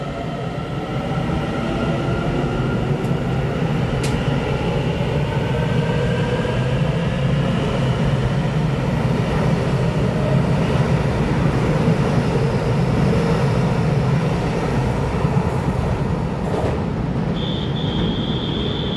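A ten-car EMU900 electric multiple unit running as a local express train rolls past with a steady, loud rumble of wheels on rail and a faint high whine throughout.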